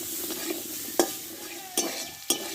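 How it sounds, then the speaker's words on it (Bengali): Pumpkin being sautéed with turmeric, cumin and chilli powder in a pan, a soft steady sizzle broken by a few sharp scrapes of a spoon stirring against the pan, close and alone. "হলুদ গুঁড়ো জিরে গুঁড়ো লঙ্কা গুঁড়ো দিয়ে ভালো করে কুমড়োটা আমি কষে নিয়ে"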